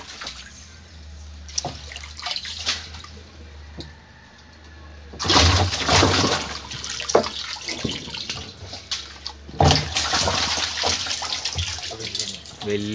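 Water being changed in a container holding fish, splashing and pouring that swells louder midway and keeps gurgling, close by, with a voice speaking at times.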